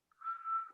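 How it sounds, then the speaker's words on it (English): A person whistles a single short, steady, faint note lasting under a second, alone in quiet surroundings. "It's from whistling."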